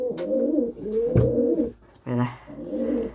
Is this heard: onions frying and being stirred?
no